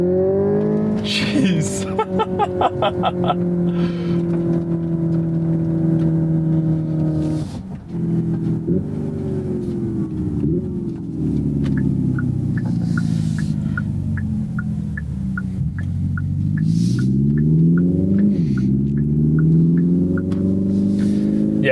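A 2024 Hyundai Ioniq 5 N electric car accelerates with N-Grin boost, its loud humming motor tone rising and falling steadily from inside the cabin while someone briefly exclaims.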